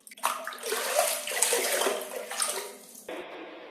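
Water is poured from a dipper (gayung) for ablution, splashing loudly and close in uneven pours for a few seconds, then changing to a softer, steadier trickle near the end. No one speaks.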